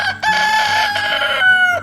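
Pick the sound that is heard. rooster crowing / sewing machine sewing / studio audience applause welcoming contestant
rooster crowing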